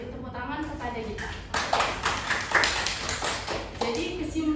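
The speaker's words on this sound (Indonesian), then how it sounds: "Beri tepuk tangan kepada Gita" Classroom applause for a student after her green chemistry presentation, scattered claps starting after a pause and continuing for a couple of seconds, with a teacher's voice talking over them.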